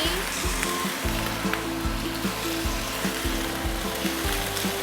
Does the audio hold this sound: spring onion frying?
yes